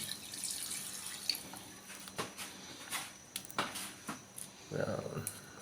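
Water is poured into a pot of chicken tinola, with splashing and dripping that comes in short, uneven bursts. The pouring is close and moderately loud, and some background noise runs under it.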